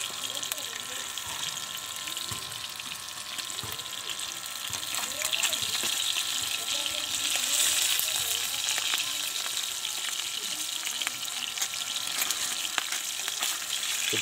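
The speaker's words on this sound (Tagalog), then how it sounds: "baka masunog ang aking nilulutong isda" Fish frying in a hot pan, a loud, steady crackling sizzle with spitting pops throughout, close up, with faint background sounds from the home.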